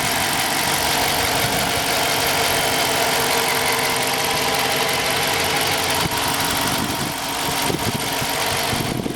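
A 2015 Dodge Charger police car, a former highway patrol vehicle with an AWD 5.7 HEMI, idles close by with a loud, steady, dense rumble that holds evenly throughout, with no talk.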